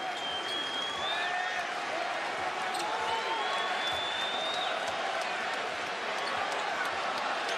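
A sellout basketball crowd at Hilton Coliseum cheering and clapping as Iowa State beats Kansas, a loud continuous roar with whistles and whoops, and a commentator talking over it.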